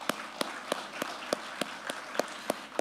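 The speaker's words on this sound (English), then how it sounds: "Please join me in giving our panelists and moderator a round of applause" An audience at a financial institutions conference applauds a panel and its moderator: a continuous wash of crowd clapping, with one nearby clapper's sharp claps landing at an even, regular pace.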